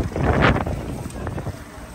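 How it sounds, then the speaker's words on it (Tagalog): Strong, cold night wind in Ueno buffets the microphone with a rough, gusty roar that peaks briefly, then settles into steady blowing. "maririnig nyo talagang hangin dahil sobrang lamig"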